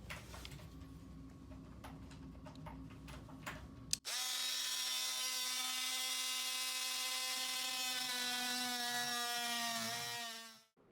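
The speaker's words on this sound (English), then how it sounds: "Now we're going to use a multi-tool to cut this baseboard so we can pry it from the wall." An oscillating multi-tool cuts through a baseboard during furniture upcycling work: a faint, scratchy stretch first, then a loud, steady high buzz that runs for several seconds before winding down at the end.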